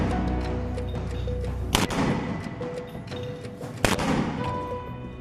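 Rockets and a 60-calibre mortar launcher fired by Hamas fighters toward Israeli forces: two sharp, loud launch blasts about two seconds apart, each with a short rumbling tail, over a steady low background rumble.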